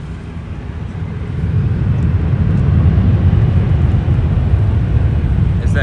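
A Delta Embraer E175 airliner at Los Angeles International Airport builds into a loud, steady broadband jet roar that swells after the first second and holds, heard from nearby.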